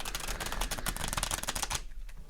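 A tarot card deck being shuffled close up, a quick flurry of rapid riffling snaps lasting under two seconds, then quiet.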